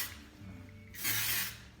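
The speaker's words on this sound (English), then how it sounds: "Just gonna add a little bit of our texture spray as well" Texture spray mists onto hair during a quick holiday updo: a soft hiss, then one longer, louder broadband spray burst of about half a second, close by with no talking.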